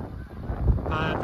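Geese honk near a farm pond shared with white-faced heifers on a snowy day, a short burst of calls rising midway over steady wind noise.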